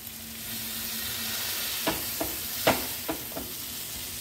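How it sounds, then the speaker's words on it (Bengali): Sweet potato being mashed in hot ghee in a wok (kadai) for a Bengali sweet, with a steady low sizzle and several distinct soft thuds and scrapes of the masher spaced a second or so apart. "এখন যে ঘি আর জলের মিশ্রণটা ছিল, জল তো নেই খুব একটা, ঘি, সেটার মধ্যেই আমি এটাকে ম্যাশ করে দেবো আলুটাকে।"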